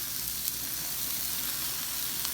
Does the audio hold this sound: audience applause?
no